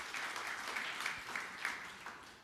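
Church congregation clapping for Jesus at a sermon, a steady wash of applause with a few louder accents, moderately distant, no talk over it.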